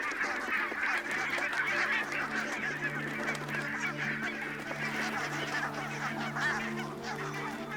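A large flock of barnacle geese setting off for Arctic breeding grounds keeps up a steady, dense honking chorus of overlapping calls, some near and many farther off, under a constant low rumble.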